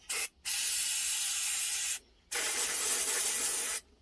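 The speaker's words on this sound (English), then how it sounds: "I'm going to shake up my can really well. Okay, and then I'm going to spray that in there." Aerosol spray can spraying cleaner into the cylinder of a TS125 engine: a short hiss followed by two longer bursts of about one and a half seconds each, close and alone.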